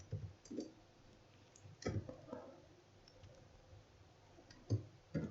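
Keys typed on a computer keyboard, a few quiet scattered clicks in small bursts with pauses between, no talking.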